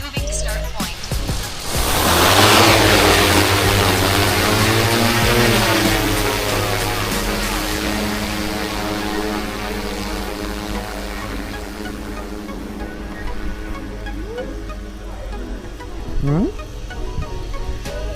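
A DJI Matrice drone spins up and lifts off, its rotors rising into a loud broadband whine that peaks early, then settles into a steady buzzing hum that gradually fades as it climbs away.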